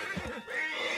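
A brief horse whinny with a rising, wavering tone, fairly close and loud, over a steady outdoor hiss.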